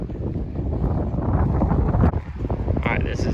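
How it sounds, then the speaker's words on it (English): Strong wind off the lake buffets the microphone at a Hickory Creek campground, loud low rumbling gusts that swell and dip, with a voice partly buried beneath. "Sorry for the wind. It's very windy right now off the lake there."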